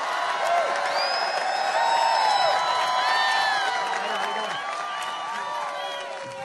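A rally crowd in Ohio cheers and applauds, a dense wash of whoops, shouts and clapping that swells and then slowly fades, heard from a distance.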